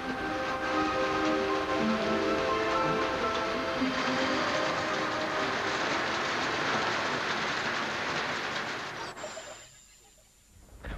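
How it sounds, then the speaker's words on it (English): Steady rain falling outside makes a dense, even hiss that runs without a break for about nine seconds, then stops abruptly and leaves near silence before a faint rise at the very end. "Oh, sounds like it's raining outside."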